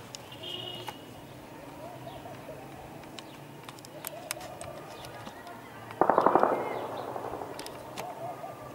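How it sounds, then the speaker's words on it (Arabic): Heavy artillery shelling from guns on a mountain, striking the industrial and old airport districts of Deir ez-Zor in 2013. Distant thuds and one louder crackling blast sit over faint ambient noise with birds. "قصف عنيف من المدفعية المتمركزة فوق الجبل على حيي الصناعة والمطار القديم"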